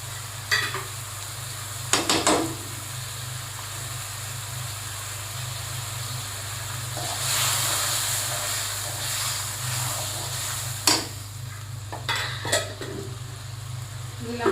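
Chili paste sizzles steadily in a pan nearby while a utensil clatters and scrapes against it in bursts, with a louder hiss swelling midway.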